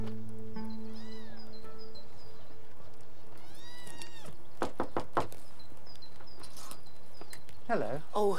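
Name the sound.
kitten meowing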